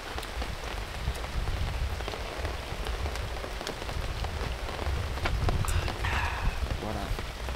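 Steady rain pours down outdoors on a fishing trip beside a village canal, with a dense hiss and pattering drops all the way through, and a voice talking faintly under it.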